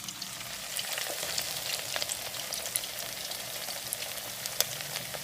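Food sizzles in hot oil in a deep fryer as a breakfast item cooks, a steady, dense crackling hiss with scattered sharper pops throughout, close and uninterrupted.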